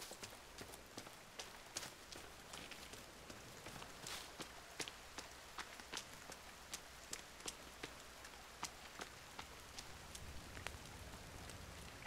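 Steady rain falls in a survival game set in a forest, a dense even hiss spread across the clip, with irregular sharp ticks and drop-like taps scattered throughout at a fairly quiet level and no talking.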